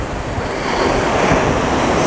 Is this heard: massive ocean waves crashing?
yes